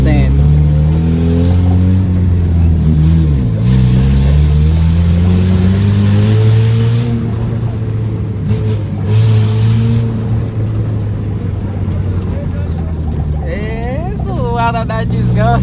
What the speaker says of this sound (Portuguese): Não sabia que esse carro fazia esse barulhão todo, não.